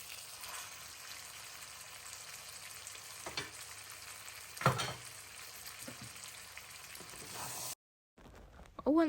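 Pieces of lamb leg frying in oil with onion and tomato paste in a pan, giving a quiet, continuous sizzle with a few stirring knocks, then a brief cut to near silence and a couple of sharp clatters at the end.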